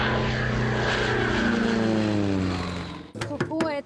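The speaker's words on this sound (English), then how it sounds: "Sukhoi is our swallow, our favorite plane." A Sukhoi aerobatic propeller plane flies past at an airfield in Western Russia, a loud steady engine drone with a pitch that slowly falls as it passes, then fades and gives way to brief talking at the end.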